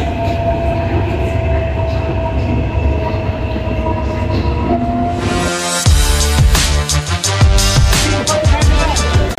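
A Delhi Metro Red Line train runs loud and close, a steady rumbling hum giving way to rhythmic wheel clatter and track clicks as it moves along the rails.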